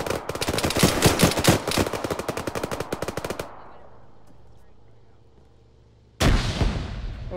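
Gunfire in an Arma firefight: a rapid, loud burst of automatic shots for about three seconds, then a decaying rumble and quiet tail, and a sudden heavy blast near the end consistent with a frag grenade going off close by.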